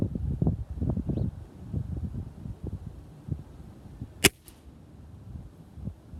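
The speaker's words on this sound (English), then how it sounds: "gonna just shoot this can before it blows over" A BB gun fires once at a can outdoors in a grassy yard, giving a single sharp crack that stands out against steady wind and rustling.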